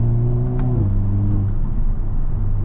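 A 2023 Hyundai Kona N with a dual-clutch gearbox accelerating hard, its engine a steady, loud, close drone whose pitch steps down as it shifts gear early on, then pulls on evenly.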